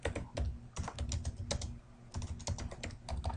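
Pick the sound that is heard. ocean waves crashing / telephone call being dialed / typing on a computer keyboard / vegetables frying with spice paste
typing on a computer keyboard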